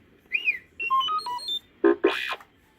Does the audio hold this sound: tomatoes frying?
no